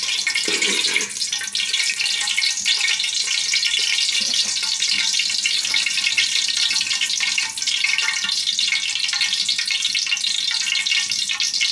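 Cashew nuts and raisins fry in a pan for Malabar-style dum biryani, making a steady, close hiss and sizzle that runs without a break and drowns out other sound.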